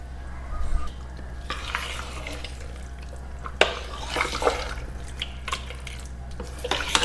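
A spoon stirs curd, salt and water together in a bowl for ragi kanji, making repeated close, wet swishing and scraping strokes in an uneven rhythm.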